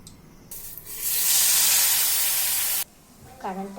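Oil poured into a hot wok bursts into loud spraying sizzle for about two seconds, then stops abruptly, followed by a brief voice.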